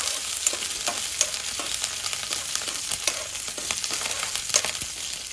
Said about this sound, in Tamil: கருவேப்பிலை சேர்த்துக்கிட்டோம். இப்போ கொஞ்சம் நல்லா பொன்னிறமாக வறுத்து எடுத்துக்கலாம்.